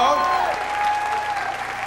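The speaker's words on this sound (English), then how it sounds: "give yourselves a round of applause" A live comedy audience applauds with steady, dense clapping that slowly fades a little, while a host speaks over it.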